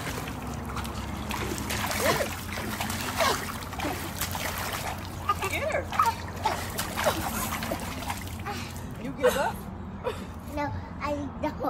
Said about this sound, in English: I'm sure I'm going to splash you.